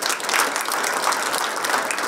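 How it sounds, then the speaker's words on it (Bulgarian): Audience applause at a Bulgarian healthcare civic contribution award ceremony, a steady, dense burst of clapping filling the room throughout, with no voices over it. "Аплодисменти."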